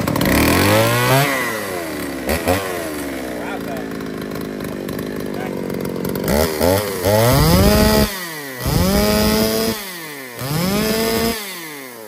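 A chainsaw engine is pull-started and runs loudly, revving in repeated bursts with rising and falling pitch over steady idling, with some talk in the background.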